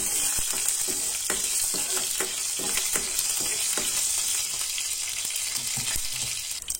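Mustard seeds sizzle and pop in hot oil as a tempering for Goan chana ross, with sharp irregular crackles over a steady, loud hiss that lasts throughout.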